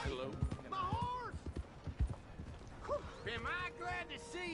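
Hooves clip-clop in a quick rhythm alongside Red Dead Redemption 2 game sounds and a horse's whinny, with someone talking over them.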